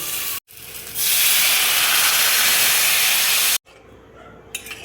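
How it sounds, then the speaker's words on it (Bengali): Water poured into a pan of hot fried masala for an egg curry sets off a loud, steady steam hiss lasting a few seconds, cut off abruptly, then fading to a quieter bubbling. "মশলাটা দেখো কষানো হয়ে গেছে, এবার আমি জল দিয়ে দেবো।"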